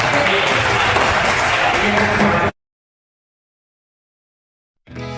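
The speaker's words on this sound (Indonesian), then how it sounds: "tepuk tangan buat Bapak-bapak" An audience at a Muhammadiyah merchant network gathering in West Java claps loudly and densely for about two and a half seconds, then it cuts to silence before another sound briefly starts.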